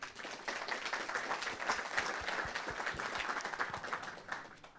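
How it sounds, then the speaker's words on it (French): Audience applause fills a French conference on quantum computing: dense, steady clapping from a seated crowd that holds for several seconds before tapering off at the end. "Sous vos applaudissements, mesdames, messieurs."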